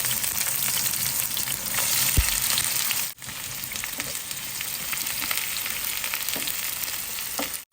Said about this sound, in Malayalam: അപ്പോൾ നമ്മൾ നേരെ നമ്മുടെ സവോള നമ്മൾ എണ്ണയ്ക്കകത്ത് ഇട്ട് കൊടുത്ത് നന്നായിട്ട് എടുക്കാം നമുക്ക്